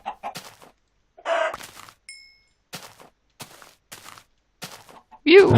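Short, sharp Minecraft chicken clucks come in scattered bursts with silent gaps between them, clean and game-like, and a louder squawk closes the sequence.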